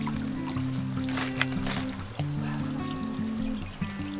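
A small trickling waterfall in Clarence Gorge dribbles and splashes faintly and steadily, a soft continuous water sound under a low tonal drone and a few light knocks.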